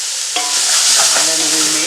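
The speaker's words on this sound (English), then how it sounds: "Then we are going to add onions." Onions hit a hot pan for cream of mushroom soup and burst into a loud, bright sizzle, with stirring scrapes over the hiss.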